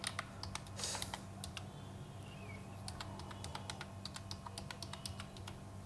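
Quiet, close clicking of keys on a computer keyboard, irregular taps and short runs over a low background hum.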